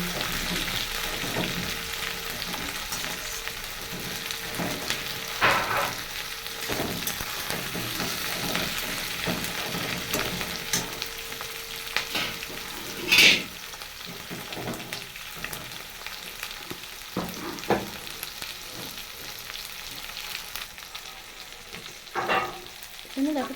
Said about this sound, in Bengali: পেঁয়াজ আর রসুনের দিয়ে কিন্তু ভাজা হয়ে গেছে দিয়ে দিচ্ছি মশলা